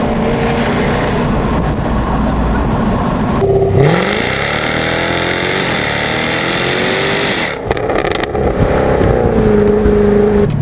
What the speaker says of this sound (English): This exhaust just sounds too good to roll up the windows.